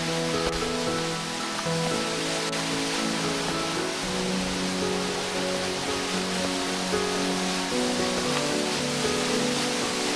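Iron-rich spring water from a mountain fountain and small springs pours steadily down into a ravine, a continuous broad rushing splash that stays even and close throughout with no voices.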